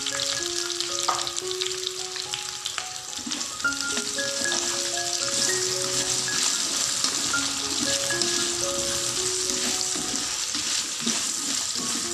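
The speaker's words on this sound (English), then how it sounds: "Fry up potatoes or okra" Potatoes and okra fry in a pan with a continuous close sizzle and occasional stirring, under soft background music.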